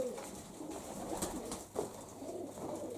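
Pigeons coo softly inside a pigeon loft, a steady murmur of low calls with a few brief bird sounds, moderately close and alone without talk.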